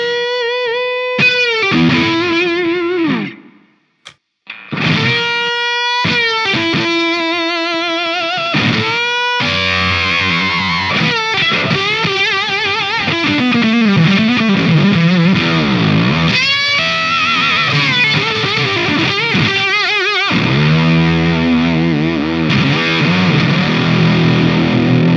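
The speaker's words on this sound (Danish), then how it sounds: "Det her, det er en drive uden Octafos." Electric guitar played through a drive pedal without octave fuzz, with distorted chords and sustained notes ringing out loud and alone, broken by brief pauses early on before a dense, continuous passage.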